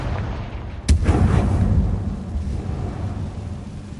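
A Confringo fire spell explodes in Hogwarts Legacy with one sharp, loud blast, followed by a low rumbling roar that fades slowly over several seconds.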